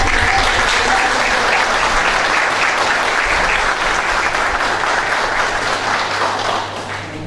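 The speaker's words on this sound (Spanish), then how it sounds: "podemos darle un fuerte aplauso que nos escuchen más" An audience at an education-week lecture event at a university in Mendoza breaks into loud, sustained applause, dense clapping that holds steady for several seconds before easing slightly at the end.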